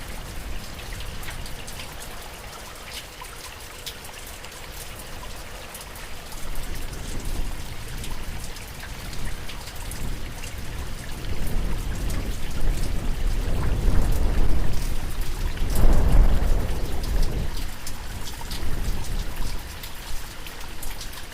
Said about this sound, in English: listening briefly to the same stream, the same place, but instead of the microphone inside of the water, using the DPA mics for ambience